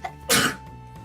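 One short, sharp human sneeze bursts out loudly for a moment in a quiet room, then fades, with no speech around it.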